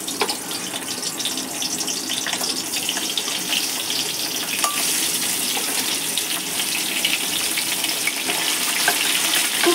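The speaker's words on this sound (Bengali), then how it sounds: "তেল গরম হয়ে গেছে, মাছটা ভেজে নেব।" Hilsa fish rubbed with salt and turmeric frying in hot mustard oil, a steady, loud hiss and sizzle filling the whole stretch without a break.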